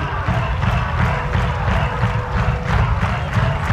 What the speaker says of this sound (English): But listen to the crowd.